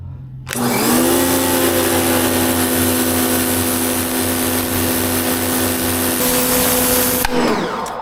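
An AVA Easy+ P50 pressure washer with a spinning turbo nozzle sprays a patio, its loud, steady rushing hiss and motor whine starting abruptly, running unbroken for several seconds, then cutting off near the end.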